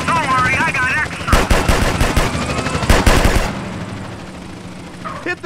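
Rapid automatic gunfire crackles in loud bursts during a drive-by in GTA San Andreas, over engine drone, with a voice heard briefly before the shooting.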